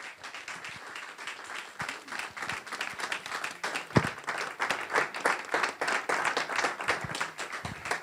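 Congregation at a church Christmas service applauding to welcome a preacher, dense sustained clapping from a crowd filling the room at steady loudness, with no talk over it.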